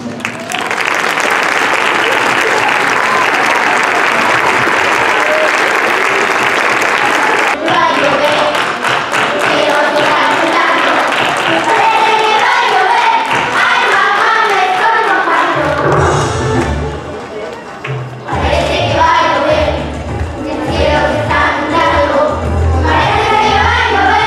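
An audience applauds at a 50th anniversary ceremony in Mexico City, with sustained clapping that shifts in character partway through, with some voices and low thumps mixed in later.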